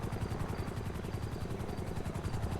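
Helicopter in the GTA roleplay game, a steady rotor chop with even rhythmic pulsing, moderately loud and continuous with no talk over it.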